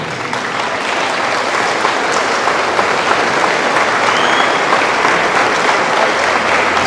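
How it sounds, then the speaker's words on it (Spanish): A church congregation applauds steadily and loudly for about seven seconds, a dense even wash of many hands clapping with no talk over it. "Señor Dios, estos aplausos para ti"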